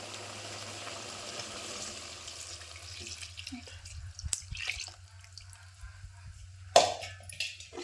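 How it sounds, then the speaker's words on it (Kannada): Water is poured from a vessel into a pot of cooked toor dal in a home kitchen; soft trickling and dripping over a steady low hum, with a brief splash near the end. "ಈಗ ಇದಕ್ಕೆ ನಾನು ಈ ಕಟ್ಟಿ ನೀರು ಹಾಕೊಂಡ್ಬಿಡ್ತೀನಿ"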